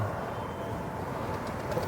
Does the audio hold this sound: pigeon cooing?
yes